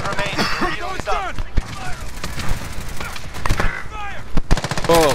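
Gunfire in a battle royale video game: rapid automatic bursts and sharp single shots crack close and loud in repeated volleys, with game voice lines and player chatter over the shooting.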